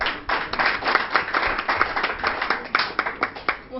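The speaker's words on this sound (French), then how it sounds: "On applaudit bien fort." An audience at an evening anniversary show in Guadeloupe claps in steady, rhythmic applause, close and moderately loud, sustained throughout with no speech.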